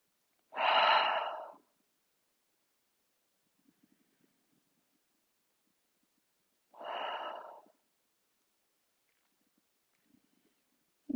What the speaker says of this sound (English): for 3 breaths, inhale through your nose and exhale